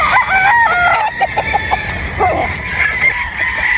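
Chickens and a rooster crow and cluck at a broodstag farm, several birds calling over one another in steady, fairly close, overlapping bursts with no talk.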